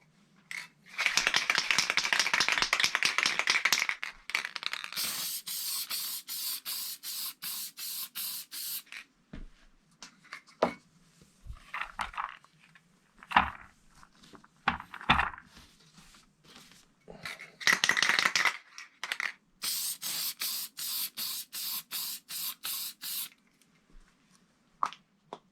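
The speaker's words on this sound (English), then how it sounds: "Before I resize the brass, I need to lubricate it, because you don't want it getting stuck in the die." Lubricant is sprayed onto 6.5 PRC rifle brass cases before resizing, in several hissing bursts separated by quiet gaps, with light rattles and clicks of the cases between them. The sound is close and fairly faint, and no one speaks.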